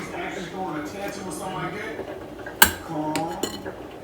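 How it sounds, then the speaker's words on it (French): Strawberry sauce being stirred in a bowl, with a utensil scraping and clinking against the dish, soft continuous handling broken by a couple of sharp clinks, under conversational voices nearby. "Il faudrait que je la rebrasse"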